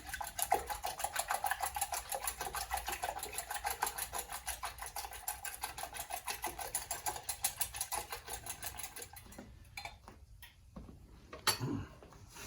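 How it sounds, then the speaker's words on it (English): A whisk beats eggs into a froth for French toast, rapid rhythmic clicks against the bowl repeating quickly and evenly at close range for about nine seconds, then a few scattered knocks. "I want to make sure that my eggs are beat into a nice little lather."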